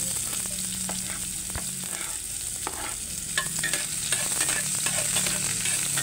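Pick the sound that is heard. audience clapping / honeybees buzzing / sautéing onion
sautéing onion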